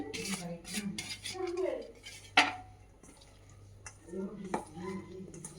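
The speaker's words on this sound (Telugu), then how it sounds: "ఆయిల్ వేడయ్యేంతలోపు కాలీఫ్లవర్ దీంట్లో వేసి కలుపుకోవాలండి" Cauliflower pieces being stirred into batter in a bowl, heard as close clinks and scrapes of a spoon against the dish, with one sharper knock partway through and soft wet mixing sounds between.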